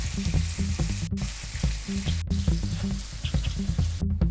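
Tandoori chicken sizzling and frying in a frying pan, cooked hard until slightly charred, a steady loud crackle with occasional stirring, no voices.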